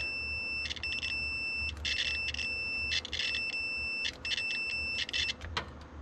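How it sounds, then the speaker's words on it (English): Ohm meter beeping while probing car ignition wiring in a garage, a series of short high-pitched electronic beeps in irregular bursts over a steady low hum. "we're just using an ohm reader, and that's the sound you hear"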